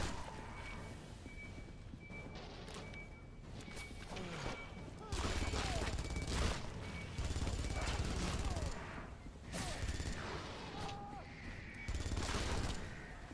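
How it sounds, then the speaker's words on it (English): A smart gun firing in a video game, with repeated bursts of gunfire and other busy game effects over a steady backdrop, the shots sounding fairly thin and light on bass. "the smart gun needs more oomph. It needs like maybe a louder bang or more bass to it"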